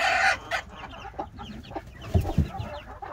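Hen with five chicks, a couple of weeks old, clucking in a backyard coop, a run of soft close clucks and chirps with a louder burst of low calls near the end.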